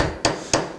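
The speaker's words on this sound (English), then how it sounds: "I'm going to take a hammer" A hammer lightly taps a spur center into a piece of wood for a gavel handle. Two sharp, close taps about a third of a second apart, each ringing briefly over a faint background rasp.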